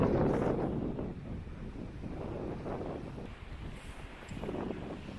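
Strong wind buffets the microphone with continuous loud rumbling gusts on a cliffside walkway, with a faint watery wash underneath.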